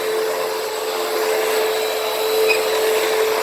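Close, loud and steady, a Hoover Windtunnel upright vacuum drones over carpet as it pulls up everyday dirt, its motor holding a continuous whine throughout with no voices.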